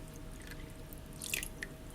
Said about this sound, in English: Now what I'm going to do is I'm just going to pour on just some cold tap water.